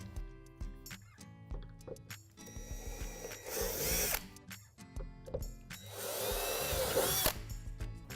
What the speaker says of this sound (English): On the right wall panel, we're going to drill out 2 divots underneath the opening.